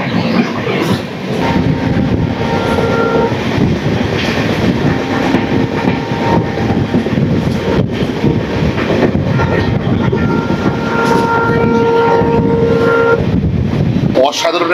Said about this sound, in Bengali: অসাধারণ একটা ট্রেন জার্নি হচ্ছে, দারুণ।